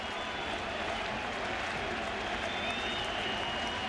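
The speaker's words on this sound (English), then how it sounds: "This crowd waiting to erupt." Dense, steady crowd murmur fills a baseball stadium during a 2000 World Series game against the Mets, a broad continuous roar with faint scattered applause and no clear eruption.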